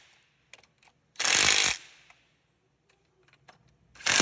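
Ratcheting wrench tightening the front bumper bolts on a Venom 110cc Mini Madix gas-powered ATV, giving a loud, close burst of rapid clicking, then light taps and another burst starting at the end.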